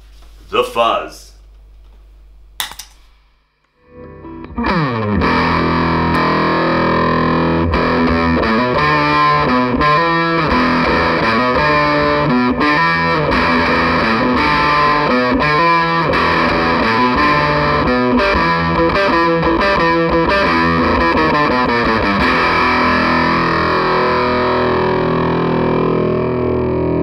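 Electric guitar driven through a Greer Amps Tarpit fuzz pedal, a few muted string scratches and a pause before a dense, loud, saturated fuzz rhythm part takes over, steady and continuous to the end.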